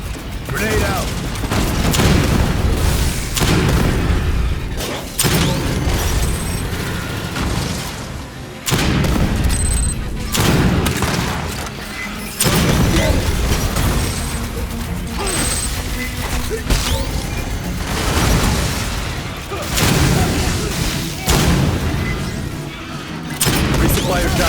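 Grenade blast in the sci-fi shooter Aliens: Fireteam Elite 2, a heavy boom amid continuous gunfire and combat noise, with dense layered crashes and thuds throughout and game voices speaking over the fray.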